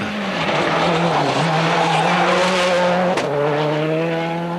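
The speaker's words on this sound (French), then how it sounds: "Même virage, Mäkinen en pleine attaque." A WRC rally car driven flat out through a corner on the 2002 Monte Carlo Rally: a loud, sustained, high-revving engine howl with brief pitch dips at gear changes, close and continuous, no voices.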